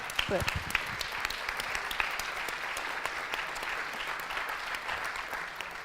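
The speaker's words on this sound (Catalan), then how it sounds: "Aleshores jo demanaria també un fort aplaudiment per a tots vosaltres que se'l mereixeu, el professorat." Applause for teachers at a gathering of Valencian-language teachers, a steady wash of many hands clapping for about six seconds, moderately quiet, with a brief voice at the very start.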